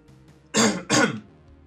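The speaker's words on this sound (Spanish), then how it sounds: "Maldito tos." Two loud bursts of throat clearing and coughing, one right after the other, standing alone against a quiet background with no speech.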